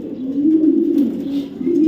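A racing pigeon from a BRPEL club loft gives a steady, unbroken low coo close up, droning on evenly throughout without any voices over it.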